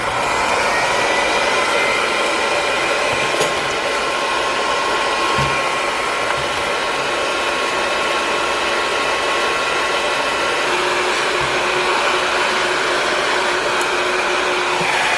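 Heat gun shrinking heat shrink tubing over red and black wire leads, a loud, steady blowing roar that runs unbroken for about fifteen seconds with faint handling knocks and no talking.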